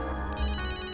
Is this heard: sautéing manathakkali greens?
no